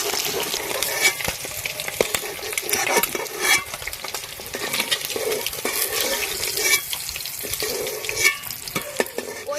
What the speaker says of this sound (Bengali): ডিম ভালো করে ভেজে নিয়েছি।